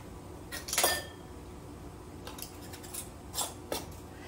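Metal lids being screwed finger tight onto glass canning jars of bread and butter pickles: a handful of short, faint clinks and scrapes, spaced irregularly in a quiet room.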